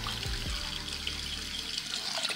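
Water pours steadily into a kitchen pot holding lemon and grapefruit rinds, a continuous close splashing stream with no voices.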